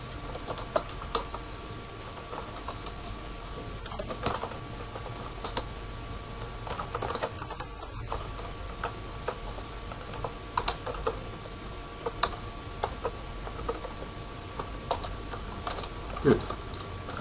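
Typing network commands on a computer keyboard, sparse light key taps and clicks spread through a long stretch, faint under occasional speech and steady background hiss.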